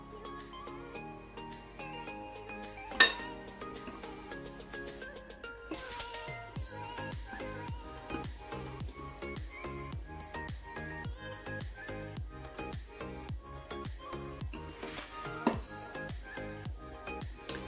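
Egg whites being gently folded into cake batter in a bowl for a peach and hazelnut magic cake, heard as a steady run of light clinks and taps of a utensil against the bowl, close and fairly quiet with no talking.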